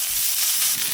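Chopped ginger dropped into hot oil with a pinch of asafoetida, hissing and sizzling in a loud, close, continuous spray that holds steady for a moment, no voices over it.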